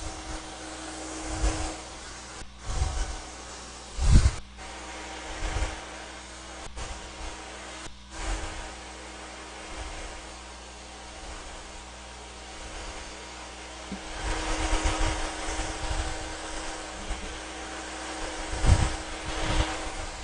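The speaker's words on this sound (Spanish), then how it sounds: "eso nos indica que ya el cabello está quedando totalmente seco y desenredado, solamente con el secador" A handheld hair dryer blowing steadily while drying and detangling hair during a keratin treatment class, a continuous close whooshing hiss with brief bumps and handling noises, no talk.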